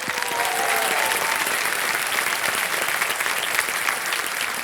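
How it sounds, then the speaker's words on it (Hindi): Studio audience on the KBC quiz show claps to welcome a contestant from Himachal Pradesh, a continuous even wash of applause with no talking. "एक बार फिर तालियों के साथ इनका स्वागत किया जाए"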